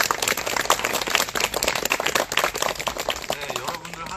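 A church youth group's congregation claps together at an outdoor Sunday service, a lively, uneven burst of many hands close by, with voices mixed into the applause.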